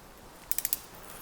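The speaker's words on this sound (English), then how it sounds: "You got to remove that bolt and pull that adjuster off of there." A ratchet removing the plastic adjuster bolt on WP Xact motorcycle forks: four quick sharp clicks in a row, close and fairly faint, no talk.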